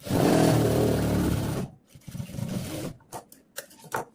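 A sewing machine stitching a top runs in one loud, fast, continuous burst, then stops abruptly and is followed by quieter rustling of fabric and a few soft clicks and taps.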